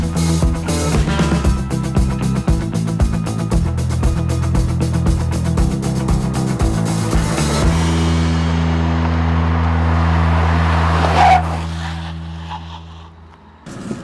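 A 2015 Ford Fusion with a small 1.5L EcoBoost engine accelerates from 0 to 60 on a track at high altitude, a loud rising engine note with rapid pulsing early, then a steadier drone that fades away toward the end.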